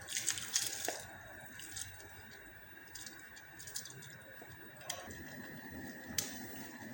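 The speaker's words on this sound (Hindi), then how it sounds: "पानी जो है ये उबल गया है, हम इसमें राइस डाल देते हैं।" Rice tips into a pot of boiling water, giving scattered drips, splashes and soft squishy pours over a quiet bubbling background, with a few sharper watery hits and no voices.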